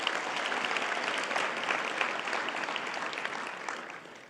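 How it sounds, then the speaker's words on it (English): An audience at a Girls and Women in Sports luncheon claps in a dense, sustained burst of applause that holds steady, then begins to taper near the end. "Let's give a huge round of applause for Cimarron Middle School,"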